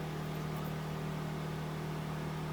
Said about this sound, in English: I know you can hear my generator in the background,